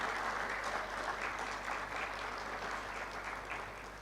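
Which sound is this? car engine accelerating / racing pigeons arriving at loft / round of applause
round of applause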